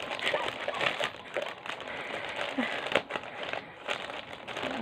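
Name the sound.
opening a package, crinkling wrapping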